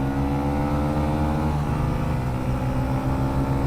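A TVS Raider 125 motorcycle accelerating hard in a race gives a loud, continuous engine drone with a brief dip in pitch midway, like a gear change, before climbing again; no voices.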